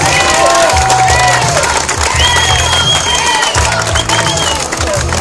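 A crowd at a Bulgarian truck driver competition awards ceremony applauds and cheers loudly and continuously for a runner-up, with shouts and whistles over a steady rhythmic musical backing.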